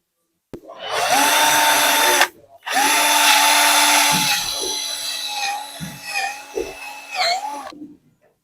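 A power drill with a pagoda step bit bores through the back of a plastic electrical inbow box: two whining bursts with a short pause between, the motor pitch steady and then wavering and dipping as the bit bites, close and loud.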